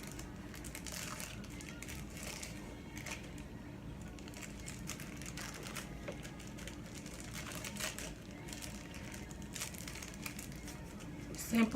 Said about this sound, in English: You grab one of your pretzel bags, and you just simply